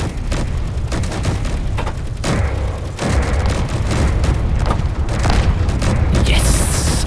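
Missile hits explode against a heavy battleship in the game Space Engineers, a loud, continuous rumbling barrage of booms and blasts with sharper cracks near the end.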